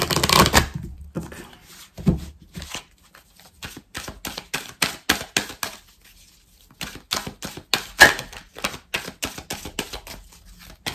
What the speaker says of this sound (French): Allez, 3 cartes du tarot persan de Madame Indira.